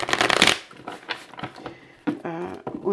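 Tarot cards are shuffled in a few quick riffling, flicking bursts, the loudest at the start and then lighter snaps and a final riffle, close and fairly quiet.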